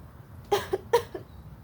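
Two short, soft forced coughs in quick succession, each with a brief voiced tail, over a quiet background.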